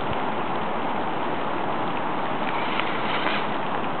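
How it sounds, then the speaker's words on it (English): Wind blows through a ravine, buffeting the microphone with a loud, steady broadband rush that barely varies from start to end, with no voices over it. "Getting a bit of wind now."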